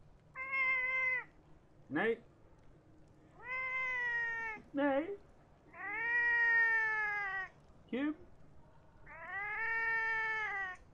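A person imitates a cat, producing several long, loud, drawn-out meows in a row, with short questioning spoken words between them.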